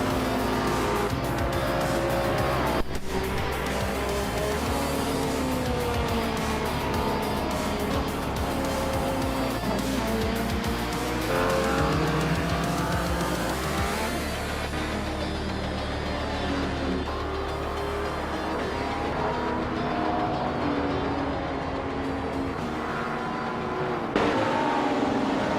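Race car in a racing video game cruising a victory lap: a loud, sustained engine drone with shifting pitch and occasional tire noise, running steadily and alone before easing off near the end.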